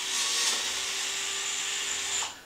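A DeWalt drill runs continuously while drilling out a hole in a metal hinge pin for an RC truck, a loud, close, sustained high whine that cuts off near the end, with no talking.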